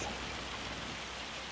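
Steady rain falls in a farming video game, a dense, even hiss of raindrops on surfaces with no other sounds.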